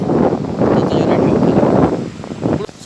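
Strong wind blasting across a beach on Mousuni Island, a loud roaring rumble buffeting the microphone, steady then easing near the end, close and overpowering, with a voice faintly mixed in.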